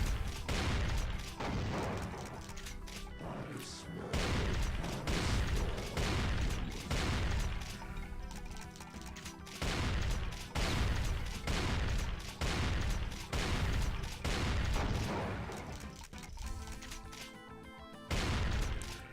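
Pump shotgun fire against monsters in Doom, on the map Memento Mori, with loud heavy blasts repeating at a steady pace of roughly one a second, each followed by mechanical racking and crashing impacts.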